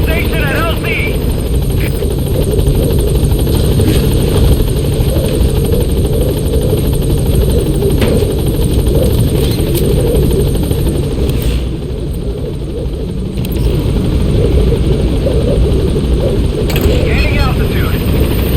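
A helicopter in the Metal Gear Solid V game holds a loud, continuous rotor thrum as it arrives and hovers at a landing zone, briefly dipping before resuming, with radio voices talking over it.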